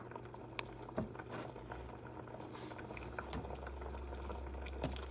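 Water fills a pot preheated over high heat on a stove for Puerto Rican rice, a steady close hiss and sizzle with bubbling throughout and a few soft knocks, no voices.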